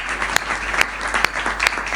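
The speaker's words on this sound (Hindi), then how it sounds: "आपकी तालियां हल्की हैं" An audience claps lightly at a Hindi comedy poetry show, a brief, moderately loud patter of applause with a few sharper claps standing out.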